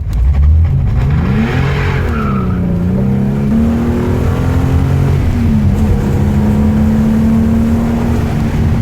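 A BMW engine revs hard through downshifts, loud and close, with rising and falling throttle blips and a sustained drone that fills the whole stretch without talk.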